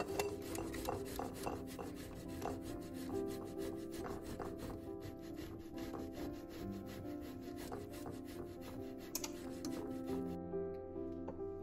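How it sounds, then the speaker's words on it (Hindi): Four boiled medium potatoes are rubbed against a grater, producing a continuous rhythmic scraping that ends abruptly near the close, with no talking. "इनको हम अब ग्रेट कर लेंगे।"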